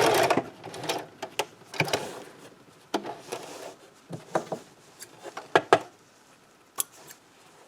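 Domestic sewing machine back stitching a scrub cap in short, separate bursts of motor whir and needle clatter, with quiet handling noises in the gaps; close and fairly quiet, with no talking.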